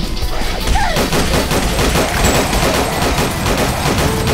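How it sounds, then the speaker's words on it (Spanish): A briefcase weapon attacking repeatedly in the action game Rusty Hearts Reborn, a loud, relentless stream of rapid gunfire-like impacts rattling without pause, close and dense throughout. "con el maletín puedo estar atacando, atacando, atacando, atacando hasta que se me acabe la munición sin detenerme"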